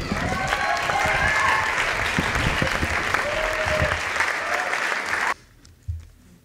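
An audience applauds a teen poet at a library poetry slam, the clapping full and sustained before cutting off abruptly near the end, followed by a brief faint sound in the quiet.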